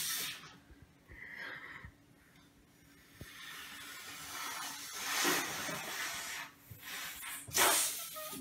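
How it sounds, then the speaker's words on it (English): A balloon is inflated by mouth for a tabletop hovercraft made from a CD, with several breathy puffs of air and hissing rushes separated by short pauses, close and fairly quiet. "Now blow up the balloon."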